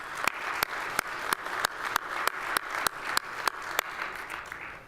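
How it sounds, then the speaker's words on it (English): Conference audience at a security association general session applauding its sponsors, a steady crowd clapping sustained at moderate loudness with a few sharper individual claps standing out, no talking. "I want to really give another round of applause to our sponsors."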